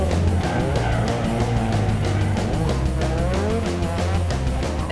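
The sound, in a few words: loud drift car engine and tyres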